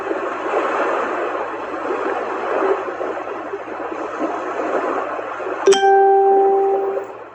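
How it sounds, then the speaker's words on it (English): A white noise machine plays a little sea wave track, a steady broad hiss of washing water at moderate level, then a click and a sustained electronic tone sound as the setting changes near the end. "This one is a little sea wave."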